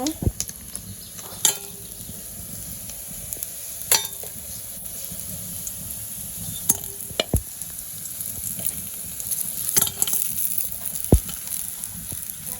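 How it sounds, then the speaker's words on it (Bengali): Bata fish frying in hot oil in a home kitchen, with a steady sizzle running throughout and occasional sharp clinks and spatula knocks against the pan. "মাছ ভাজা হয়ে গেছে মাছগুলো নামিয়ে নিব"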